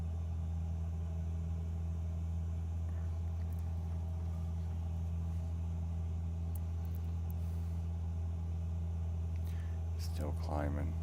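Light aircraft engine in Microsoft Flight Simulator 2020 on a low tour flight over Los Angeles, a constant deep droning rumble throughout, with a voice talking briefly near the end.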